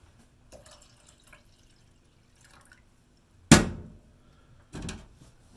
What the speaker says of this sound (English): half pint of cold water to the mix.